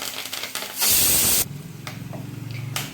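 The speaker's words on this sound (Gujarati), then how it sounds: "અને મીઠા લીમડાના પાન ઉમેરી દઈશું" A loud burst of hissing sizzle flares up for about half a second as curry leaves hit hot oil, then settles into a steady crackling fry with a few sharp pops.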